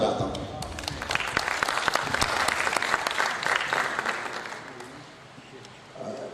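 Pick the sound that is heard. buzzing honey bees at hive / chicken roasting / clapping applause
clapping applause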